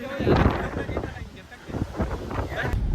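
Rough gusts of wind buffet the microphone on a hilltop while people talk close by.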